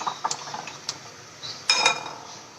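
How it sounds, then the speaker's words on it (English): Sugar mixture for a mithai being whisked in a bowl, light scraping clinks of the whisk against the bowl in quick irregular strokes, with a brighter clattering burst near the end, close and fairly quiet. "we'll whisk it again."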